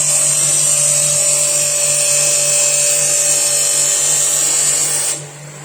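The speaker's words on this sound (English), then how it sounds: "And I can straightway start polishing the sample." A portable laboratory polisher machine polishes a metal sample with a loud, steady high-pitched whine and constant hum that cuts off abruptly near the end, no voices.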